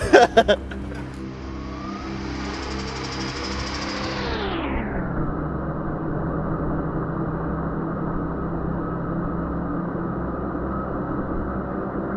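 A car racing at about 100 miles an hour makes a loud, steady engine roar with a few sharp knocks at the start. Its pitch sweeps sharply downward partway through, then settles into a lower, continuous drone.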